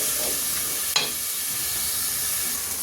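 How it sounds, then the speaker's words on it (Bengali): Mung dal that was soaked and pre-fried sizzles steadily in a hot pan as it is stir-fried, a continuous close hiss with one brief scrape of stirring, no talk. "এখন এটাকে আমি ভালো করে একটু কষিয়ে নিচ্ছি।"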